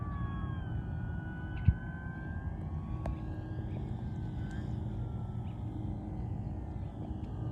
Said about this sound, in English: This plane flies awesome. I'm loving this thing.